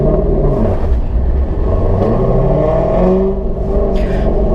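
A C5 Corvette drift car's engine accelerating in first gear, a loud, close, steady rumbling drone with the pitch rising and falling slightly throughout.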